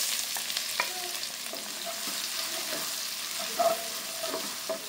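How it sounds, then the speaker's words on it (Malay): One chopped onion and three cloves of garlic sauté in a pan for a beef kuey teow sauce, sizzling steadily with intermittent stirring scrapes and clinks, close and alone without talk. "untuk buat kuah dia, tumiskan 1 biji bawang besar,"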